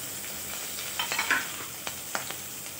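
Cumin, curry leaves and chilies sizzle in hot oil for shevaya upma, a quiet crackling hiss broken by a few sharp spits and stirring clicks.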